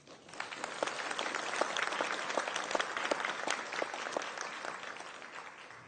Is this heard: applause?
yes